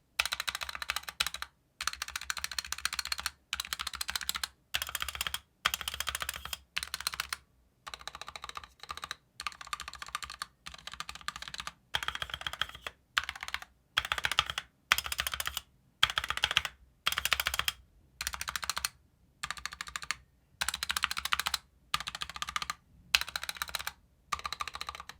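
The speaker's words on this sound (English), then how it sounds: "So just listening to those stabs right there with that minor mod" Fast clacky typing on a SteelSeries Apex Pro Mini keyboard with lubed stabilizers, recorded up close as dense bursts of keystrokes separated by short pauses, continuing for about twenty-five seconds without any talking.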